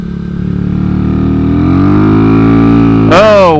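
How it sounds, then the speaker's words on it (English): A Kawasaki Z125 motorcycle engine with a slipping clutch revs up close and loud, its pitch climbing steadily and then surging sharply in a final burst. "Yeah, the clutch is slipping."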